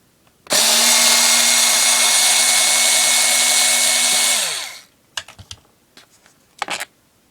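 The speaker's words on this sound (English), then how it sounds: "Lidl were doing this amazing deal on electric screwdrivers." A cordless electric screwdriver spins out screws while a BMW K75 speedometer faceplate is taken apart. One loud, steady whine runs for about four seconds and then winds down, followed by a few short clicks and handling noises.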